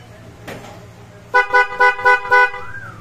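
A motor scooter's PIAA horn honks five times in quick, even succession, loud and close, with a faint engine hum underneath.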